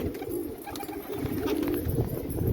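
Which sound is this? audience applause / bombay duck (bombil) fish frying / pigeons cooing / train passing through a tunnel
pigeons cooing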